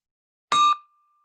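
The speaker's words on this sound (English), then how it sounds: "So ring the bell twice, please, Sue" A single bell strike rings out at a club meeting, loud and close, with a clear tone that decays quickly and leaves a thin lingering ring in an otherwise silent room.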